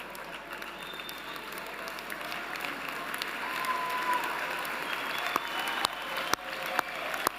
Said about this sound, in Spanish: buscadlos con la mirada y dadles el aplauso que se merecen.